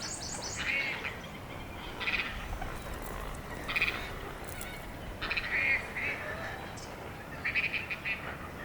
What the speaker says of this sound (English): This is another white face, and he's calling for a mate.